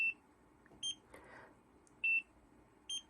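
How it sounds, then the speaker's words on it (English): A Nira precision laser skin device emits four crisp electronic beeps, close and clear, with a brief rustling noise between the second and third. "The second beep tells you it's time to move it to another location."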